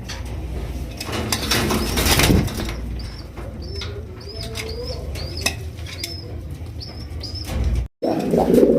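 A pair of black Indian Kaldom pigeons coo in a repeated rising call close by, with wing flaps and fluttering early on and a brief clatter near the end.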